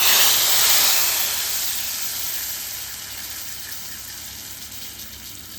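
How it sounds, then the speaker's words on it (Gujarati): Mustard seeds, cumin, whole spices, curry leaves, asafoetida and red chilli powder tempered in hot oil for dal dhokli, a loud steady sizzle and hiss that is strongest at first and eases slightly as it goes on, with no talking. "તેલ ગરમ થઈ જાય એટલે એમાં 1 ચમચી રાઈ, 1 ચમચી જીરું, ખડા મસાલા, લીમડી પત્તા, હિંગ તેમજ લાલ મરચું પાવડર એડ કરી દાળમાં વઘાર બેસાડી દઈશું"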